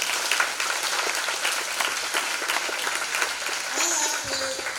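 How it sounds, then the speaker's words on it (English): An audience at a police community dialogue event gives a round of applause, dense clapping throughout with a voice starting to speak near the end. "let's give them a round of applause again"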